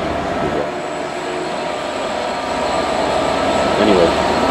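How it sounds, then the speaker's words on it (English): Inside a moving train carriage, a steady rumble and clatter of the rolling wagon goes on without a break and slowly grows a little louder. "I'm in the second of the trains."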